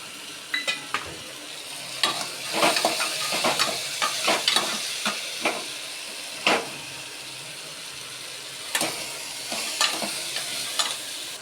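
Peanuts sizzling as they fry in a pan for homemade khichdi, with a steady hiss under repeated sharp scrapes and knocks of a spoon stirring them, fairly close and with no talking.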